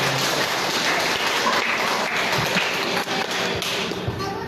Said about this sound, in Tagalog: Bigyan nga po natin ng isang malakas na palakpak ang ating pastor.